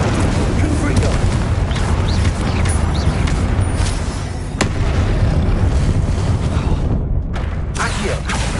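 A Confringo blasting spell explodes in Hogwarts Legacy on PS5: loud, dense, rumbling blasts run throughout, with one sharp crack near the middle.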